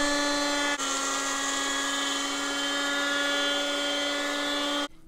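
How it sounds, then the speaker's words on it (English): An electric grinder processing sticky rice, a steady high-pitched motorized whine that starts abruptly, runs evenly for about four seconds and cuts off, heard close and loud. "And I'm going to grind."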